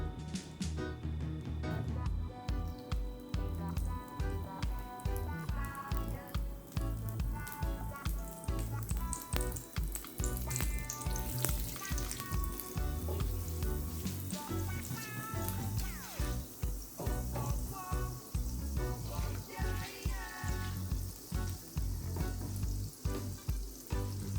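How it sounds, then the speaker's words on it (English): Vegetable oil and butter sizzle in a skillet for French toast, a steady frying hiss that runs the whole time beneath loud rhythmic background music. "I'm gonna go in with some vegetable oil in my skillet, just about less than half a teaspoon, and some butter"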